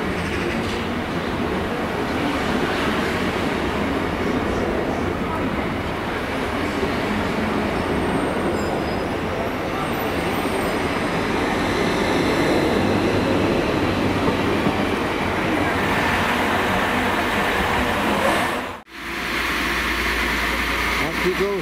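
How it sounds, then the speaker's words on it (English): Train from Bristol Temple Meads arriving at Cardiff station on a busy rugby day, a loud continuous rumble of rolling carriages and wheel noise close by, ending in a sudden break and then a lower hum. "Here we have the train from Bristol Temple Meads."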